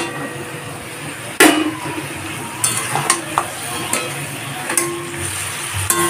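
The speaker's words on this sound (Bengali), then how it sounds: "এখন মাছের মাথার টুকরোগুলোকে দিয়ে দেব।" Fish head pieces drop into masala frying in a pan for moong dal, giving a sharp splash and sizzle followed by several clinks and scrapes of stirring against a steady background fry.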